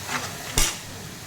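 A utensil stirs chili powder in a pan while making samiya, with a soft scraping backdrop and one sharp metallic clank against the pan midway, close up and with no talking.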